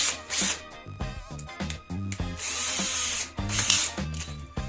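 A cordless power drill spins a headless nail used as a bit to bore a pilot hole in hardwood such as Brazilian cherry, in several short whirring bursts separated by brief pauses.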